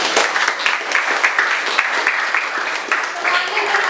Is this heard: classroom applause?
yes